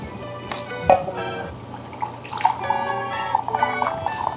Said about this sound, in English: I'm going to pour some coffee.